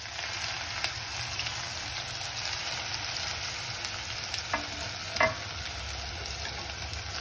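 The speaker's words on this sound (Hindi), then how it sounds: "सबसे पहले मैं सरसों और जीरा डालूंगी, 3 चीनी डालूंगी और ये जो प्याज काटा हुआ है वो डाल दूंगी।" Mustard seeds, cumin and chopped onion frying in hot oil, a continuous close hiss and sizzle with a few soft stirring clinks and bumps, no voices.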